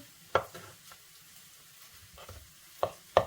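Onion fries in a pan with a soft, low sizzle while a utensil stirs it, with a few sharp scraping knocks against the pan, close and fairly quiet.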